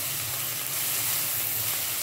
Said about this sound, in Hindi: अदरक लहसुन का पेस्ट ऐड करूंगी। अब 2 मिनट इसकी भी भुनाई करेंगे।